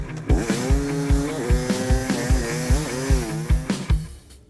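Timbersled snow bike, a dirt bike fitted with a snow conversion kit, ridden through the Idaho hills: a loud, close engine with rhythmic revving pulses and shifting pitch, sustained throughout with no talking.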